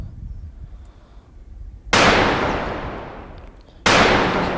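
Two loud rifle shots fired while hunting wild boar in southern France, each a sharp crack with a long decaying echo, about two seconds apart over a quiet outdoor background, with no talk.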